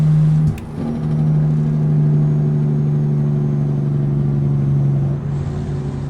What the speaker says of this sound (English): the Jake brake inside here with the engine